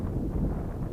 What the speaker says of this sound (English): that wind is gusting up a bit now